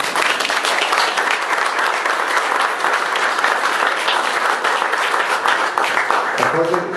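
Steady, dense audience applause at an art exhibition opening, sustained clapping from a sizable crowd at even loudness throughout, with a brief voice surfacing near the end.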